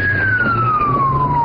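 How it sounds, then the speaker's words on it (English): A police car siren wails loud and close as the officer races toward a house, the tone sliding slowly downward over steady road and engine rumble. "The sound of the police siren was recorded by a Paradise police officer racing to the house."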